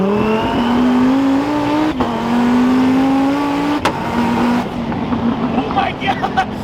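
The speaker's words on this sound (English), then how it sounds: "That's a 9-liter twin turbo Dodge Viper." A 9-liter twin-turbo Dodge Viper making about 1700 wheel horsepower accelerates, heard from inside the car as a loud, steady engine drone that climbs in pitch, with a brief break and a voice over it.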